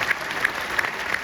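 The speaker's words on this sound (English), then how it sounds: "How about a huge round of applause?" Audience applause on an 80s-themed cruise, a short burst of steady clapping with a few louder claps standing out.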